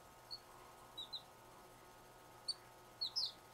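Pet birds give several faint, brief high chirps, scattered singly and in quick pairs over a steady low room hum.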